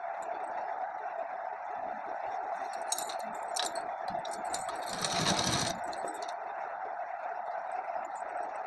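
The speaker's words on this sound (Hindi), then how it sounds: "ये देखिए, हम सिलना शुरू करते हैं।" A sewing machine stitching a suit runs in a steady, fast continuous whir, close and even, with a brief louder clatter midway and light metallic clinks, no voices.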